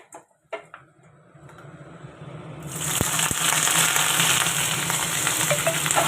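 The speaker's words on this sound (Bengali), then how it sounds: "আর একটু বড়ি ভাজবো" After a few quiet kitchen clinks, a pan bursts into a loud, steady sizzle as bori lentil dumplings go into hot oil tempered with black cumin seeds, with occasional light taps over the hiss.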